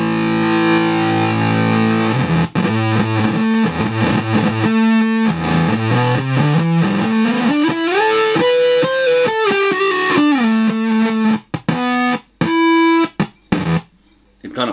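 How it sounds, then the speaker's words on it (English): Electric guitar run through an Echo Dream pedal into a gated Nidarus Duman fuzz, giving loud, heavily distorted sustained notes and sliding bends that cut off abruptly into choppy gated bursts near the end. "I'm running the Echo Dream into my Nidarus Duman, which is a gated kind of gnarly first step"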